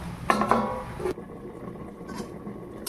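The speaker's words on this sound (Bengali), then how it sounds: "কিছুক্ষণের জন্য ঢাকনা দিয়ে দেবো।" A lid being put on a pot of salted water with jackfruit, a couple of close metallic clanks and a rattle, followed by quiet kitchen background with no talking.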